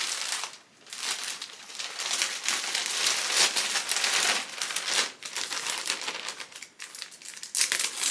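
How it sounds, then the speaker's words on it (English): Crinkling and crumpling of a plastic poly mailer shipping bag as clothing is packed into it, close and continuous with irregular rustling bursts. "We got another one of our poly mailers."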